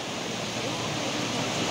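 Floodwater rushes over the road on the Otmok mountain pass, a loud, steady broadband roar of churning water with no break.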